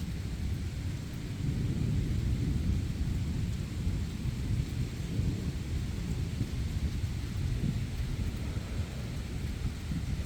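Steady heavy rain with deep rolling thunder, a dense continuous low rumble that stays loud and close throughout with no voices.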